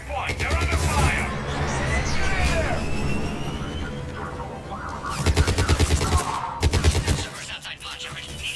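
Gunfire at the Cerberus checkpoint in Mass Effect 3: rapid automatic bursts crackle in loud clusters amid battle noise, with voices talking over the shooting.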